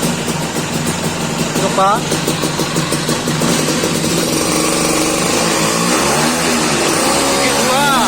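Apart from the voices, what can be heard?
Vespa scooter engine revving on a dyno test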